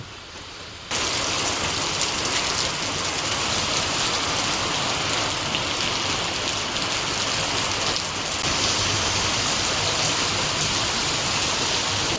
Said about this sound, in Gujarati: બાકી અત્યારે તો સારો વરસાદ આવે છે